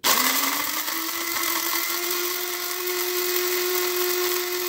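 Electric grinder whirring steadily as it grinds dried hot chili peppers into a coarse powder, a loud continuous motor whine that rises in pitch at the start and then holds level.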